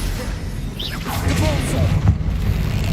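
A Confringo blasting spell explodes in Hogwarts Legacy, a short whooshing streak followed by a booming burst with crackling debris, loud and close over background game sounds.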